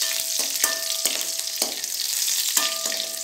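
Bay leaf, cashews and green chili frying in hot oil for rava kichadi, a dense bright sizzle with repeated stirring taps and scrapes of a spoon against the pan, nearby and without speech.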